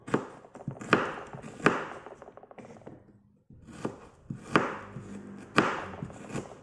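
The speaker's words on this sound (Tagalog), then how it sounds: "hiwain na natin" Onion being chopped on a cutting board while preparing a Filipino spinach and tuna dish: sharp, close knife thuds in uneven bursts, a short pause, then another run of chops, with no talking.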